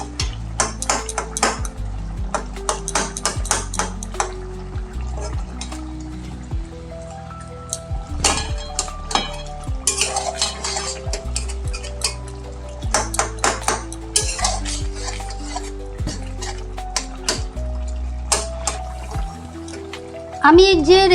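Tomatoes being stirred and mashed in a pan during Kadai chicken cooking, with repeated metallic clinks and scrapes of a utensil against the pan under steady talk.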